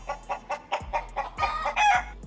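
A rooster on a Miami street clucks in a run of short, evenly spaced calls that build into a louder strained crow, close by, with low traffic rumble and a few thumps behind.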